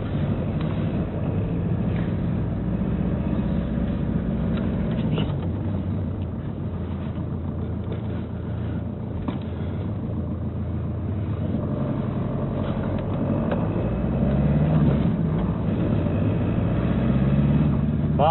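A Ford Tourneo Connect engine hums low and steady in third gear from inside the moving vehicle, with road rumble throughout and no talking.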